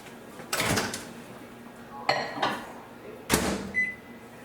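Three short beeps and clicks from a microwave oven's keypad being set to cook, evenly spaced, close and fairly quiet, with a faint hum between presses.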